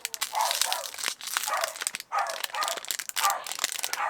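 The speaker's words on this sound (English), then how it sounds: "I think you can hear my dog barking" A household dog barks in repeated bursts somewhere indoors, the sharp calls coming in several clusters over a few seconds at moderate distance with no talking over them.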